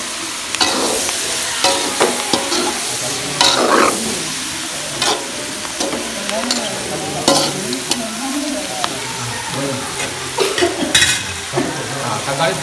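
Tomatoes fry in a pan for chicken devilled while a spoon stirs them, giving a crackling sizzle broken by frequent scraping and clattering strokes against the metal, close and fairly loud.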